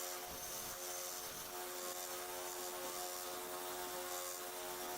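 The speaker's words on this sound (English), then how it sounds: "So I'm using a 400 grit belt, which should do the work slowly enough." A belt sander fitted with a 400 grit belt grinds a pocket knife blade, giving a steady, dense high-pitched whir with a constant tone and no pauses, heard close and alone.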